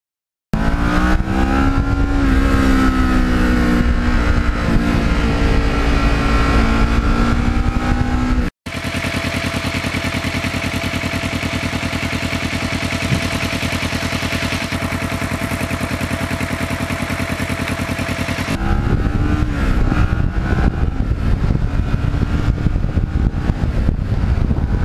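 Kawasaki Ninja motorcycle ridden on back roads in cold weather, loud engine revving and shifting pitch, then a steady droning cruise with heavy wind rush, returning to a rougher engine note near the end.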